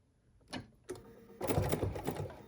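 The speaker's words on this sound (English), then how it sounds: "I am going to take a few stitches, just one, and now I'm going to reverse" A sewing machine stitches over embroidery fabric in short bursts, a few quick mechanical whirring runs with brief pauses between them, close and clear, then a longer reverse-stitching run, no talking.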